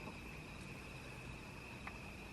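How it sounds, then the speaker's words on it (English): Crickets chirp at night beside a dark highway in Florida, a faint, steady high trill running continuously with no other sounds over it. "I hear crickets."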